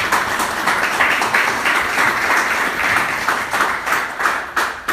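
Congregation applauding the Holy Scriptures during a Catholic service, a dense, loud wash of many hands clapping steadily throughout, with no speech over it.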